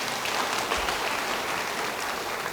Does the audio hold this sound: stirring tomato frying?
no